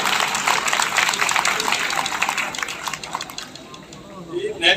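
Crowd applause at an event, a dense steady clatter of clapping for several seconds that thins toward the end, a voice briefly heard at the close.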